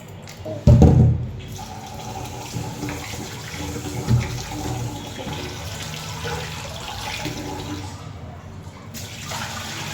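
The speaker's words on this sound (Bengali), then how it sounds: "পোলাও চালটা এখন ধুয়ে ভিজিয়ে রাখি" Pulao rice being washed in water, with a loud splash and swirl near the start, then steady sloshing and running water continuing close by at moderate level, with no talking.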